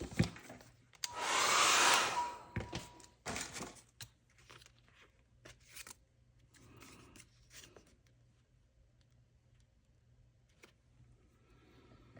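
A heat tool roars loudly for a couple of seconds as it dries a layer of paint on a mixed-media abstract artwork, then cuts out, leaving scattered handling clicks and quiet rustling.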